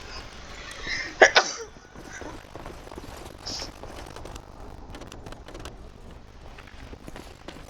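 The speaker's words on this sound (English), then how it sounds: "I'm gonna sneeze again" A single sharp sneeze bursts out near the start, followed by faint rustling and soft background noise.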